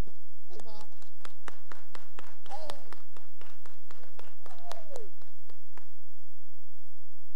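Church congregation clapping at the close of a service, a sparse, irregular patter of individual claps, fairly close and moderate, with brief voices and a whoop mixed in before it thins out toward silence.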